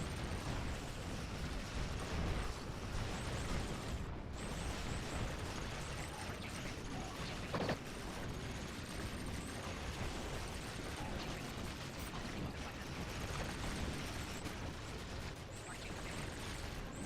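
Starship weapons fire and explosions in Star Trek Online, a dense nonstop barrage of blasts and booms during a battle against dozens of enemy ships, with a loud, steady, full-band roar throughout and no pauses.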